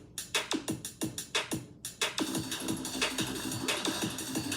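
Mechanical percussion beat loop taken from a sample for an electronic track: sharp, evenly spaced metallic hits open the bar, then a denser layered groove with a sustained tone underneath, played alone.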